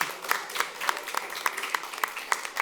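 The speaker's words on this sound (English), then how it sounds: "Round of applause for our panelists," Applause for a conference panel on climate-resilient transport finance: evenly spaced claps in a steady beat, moderately close, from what sounds like a small group, with no talking.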